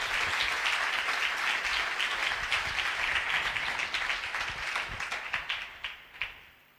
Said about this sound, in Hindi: आओ मुकद्दसा मरियम की शान में तालियां बजाएं जोरदार